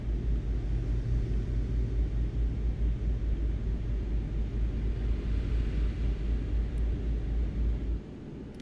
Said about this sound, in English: Sounds more like a truck now.